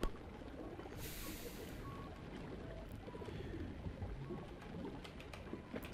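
A bird sound effect plays in the video game Else Heart.Break(), with soft pigeon-like cooing calls buried in a dense, steady wash of noisy background sound.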